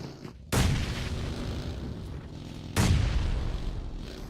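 Grenade explosions in a PUBG Mobile esports match: two heavy booming blasts about two seconds apart, each with a sharp onset and a long rumbling tail over steady game noise.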